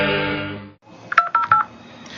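Choral singing fades out, then a short pause before a series of quick electronic phone dialing beeps, the opening of a dial-up connection.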